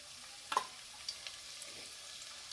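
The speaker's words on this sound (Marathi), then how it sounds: "बघा तेल तापलं आहे आता आपण यामध्ये एक मोठा चमचा हे बघा लसूण दहा पंधरा पाकळ्या मी लसणाच्या घेतलेल्या आहेत" Garlic cloves, ten to fifteen of them, frying in hot oil for veg fried rice: a quiet, steady sizzle with a few small crackles and pops near the start.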